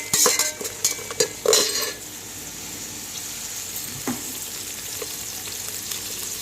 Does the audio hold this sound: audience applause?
no